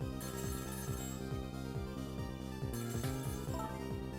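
A telephone rings in the Ghost Trick video game, a faint repeating electronic ring pattern over a steady musical background, with no voices.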